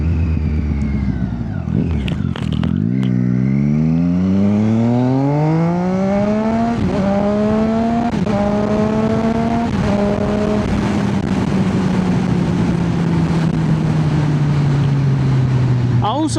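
A car engine revs sharply on a downshift with rev matching, a loud close roar climbing and falling in pitch through several gear changes, then settling to a steady drone.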